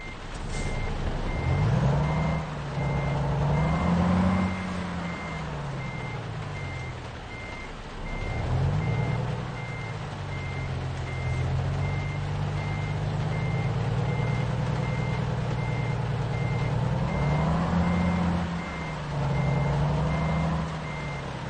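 Steady reversing beeps repeat over a rumbling semi-truck engine in American Truck Simulator, rising and falling as it backs a trailer in, with a hiss of air brakes.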